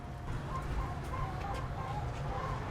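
Faint, repeated clucking from chickens at a distance, heard under a steady background hum with no talking.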